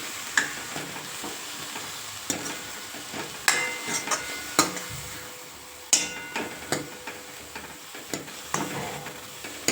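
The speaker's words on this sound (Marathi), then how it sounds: "अगदी 1 ते 2 मिनिटभर ही मेथी आपल्याला परतून घ्यायची आहे।" Fenugreek leaves sautéed and stirred in a pan, with a steady low sizzle broken by repeated scraping knocks of a spoon against the pan in an irregular rhythm, close and alone.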